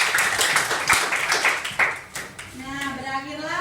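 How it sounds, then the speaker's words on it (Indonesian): A small audience at a classroom lesson claps in a short, uneven burst that fades after about two seconds, followed by a voice starting to talk. "tepuk tangan dulu untuk kakak"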